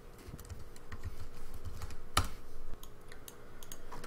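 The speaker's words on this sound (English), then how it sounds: "Open up PuTTY and type in that IP address." Rapid keystrokes on a computer keyboard as an IP address is entered to reach a Raspberry Pi, a steady run of close, soft clicks with one sharper tap midway.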